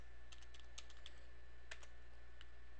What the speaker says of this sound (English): At this window, you'll type in your username and password